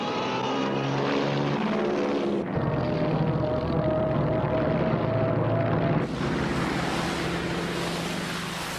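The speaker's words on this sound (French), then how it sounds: "Les avions américains présents sur la base viennent à leur rencontre." WWII American aircraft at Midway, old Brewster Buffalo fighters among them, fill the air with a loud, continuous propeller engine drone that shifts in pitch and intensity as planes pass, with no voices.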